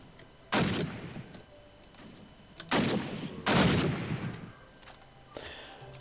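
Machine guns fire in modded Minecraft, heard as three loud separate bursts of rattling shots with quiet gaps between them, fairly close and without talk over them.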